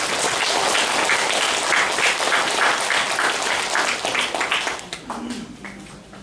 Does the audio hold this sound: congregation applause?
yes